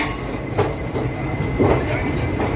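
Close, steady rumble of the Tirunelveli–Purulia train rolling through Katpadi Junction, with soft repeated wheel clicks over rail joints and no voices.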